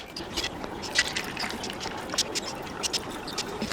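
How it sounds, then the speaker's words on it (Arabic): Water poured into a fragrance diffuser makes a continuous close splashing and trickling with small gurgles. "تعالى مثلا نملاها ميه"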